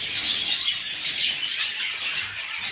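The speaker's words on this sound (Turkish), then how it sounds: "Şöyle kuşlarımı da bir çekeyim." Pet birds chirping indoors, several quick high twittering calls in close succession, moderately loud and with no talking.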